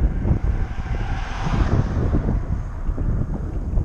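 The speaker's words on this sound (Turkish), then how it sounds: "Barajdan gelen rüzgar çok iyi." Steady wind from a dam roars across the microphone of a cyclist on a road, a constant rushing noise with no voices.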